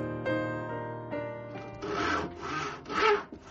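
Wood is sawn by hand during a home renovation, with three or four rhythmic rasping strokes close by following a sustained musical tone at the start.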